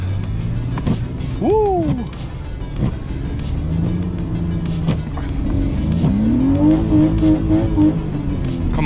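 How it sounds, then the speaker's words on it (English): A small, old rear-wheel-drive BMW 328ti hatchback drives through a snowstorm, its engine revving up and down with rising and falling pitch and a tire squeal, close and continuous, while a voice briefly cheers. "I've decided to take my small, old, rear-wheel drive hatchback for some adventures"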